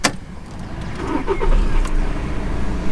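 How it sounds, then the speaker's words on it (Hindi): A Skoda Yeti's engine cranks and catches at close range, rising into a steady idle rumble after a brief starter whir; no talking over it. "मेरे भाई देखो अभी स्टार्ट कर रहा हूँ मैं,"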